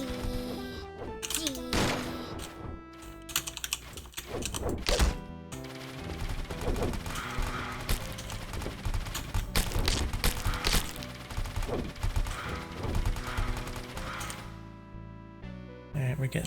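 Dense, rapid gunfire fills a busy scene in the video game Marmoreal. Bursts of shots and thumps pile up over music and effects for the whole stretch, with a voice talking throughout.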